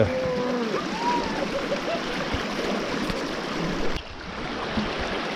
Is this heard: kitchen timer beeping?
no